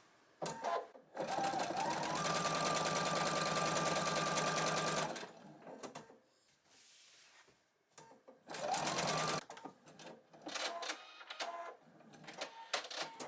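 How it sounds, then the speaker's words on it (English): A sewing machine stitching quilt binding onto a modern mini quilt at a slow setting. It gives a loud, steady mechanical whirr in long bursts of a few seconds each, separated by pauses and quieter handling sounds. "I'm going to use my sewing machine to stitch it into place"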